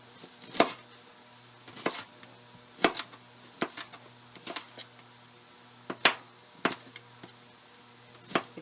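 Knife dicing onions on a cutting board, a series of crisp, irregular chops spaced about a second apart, close and clear over a faint steady kitchen hum.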